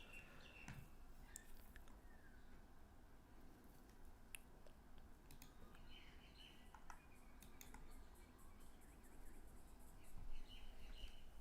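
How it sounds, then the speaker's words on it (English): Faint birdsong outdoors, with scattered chirps and short calls rising over a steady low hum, quiet and fairly distant. "the birds are going crazy right now"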